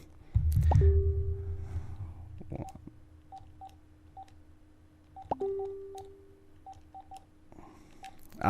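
A telephone keypad is dialed, giving a series of short tones in uneven bursts after a couple of clicks and hum, with a steady background tone.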